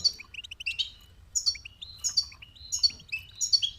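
Goldfinch chicks chirping in quick bursts of high, thin tweets while being hand-fed, with short pauses between clusters and a low soft rumble underneath.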